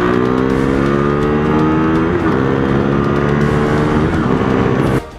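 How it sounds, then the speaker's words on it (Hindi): A 2017 KTM RC390 motorcycle fitted with a Powertronic ECU revs hard up close, its loud engine note climbing and dipping in steady surges for about five seconds before cutting off abruptly, with no talking. "now I'm on this beast of a bike, the 2017 RC390 with the Powertronic ECU"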